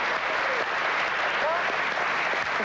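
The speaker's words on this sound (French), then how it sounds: "On peut vous applaudir à nouveau, merci." A French TV studio audience applauds steadily on a 1999 talk show, a dense sustained clatter of many hands with a host's voice speaking over it.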